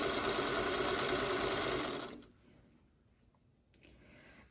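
Home sewing machine stitching long fabric strips for a quilt block, a steady close whirring run for about two seconds that stops abruptly, followed by near silence and a faint click.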